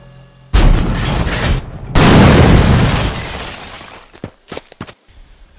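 Toy army men in a stop-motion battle blow up a sniper watchtower: a loud blast with a burst of crackling debris, then a second, bigger explosion that rumbles and fades into scattered clattering fragments.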